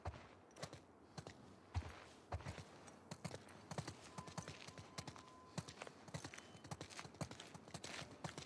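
Horse hooves clip-clopping in The Last of Us 2 video game, a brisk irregular run of sharp hoof knocks amid faint ambient background, no talk.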